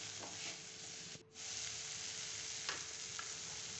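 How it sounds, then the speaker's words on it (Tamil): Masala with coriander and mint leaves sizzles and fries in a pan, a soft constant crackle with faint stirring scrapes and a brief pause, heard close without speech. "இப்போ இது நல்லா கொஞ்சம் கொலைய வதங்கட்டும்"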